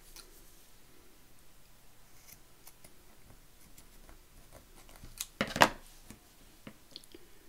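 Scissors cut pieces in a quiet room, making soft scattered snips and one sharper, louder cut near the middle.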